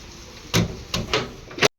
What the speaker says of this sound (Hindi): दरवाज़ा बंद कर लेते हैं।